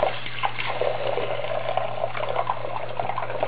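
Warm tap water running steadily into a rabbit's water bottle, a constant close gushing stream with no talk.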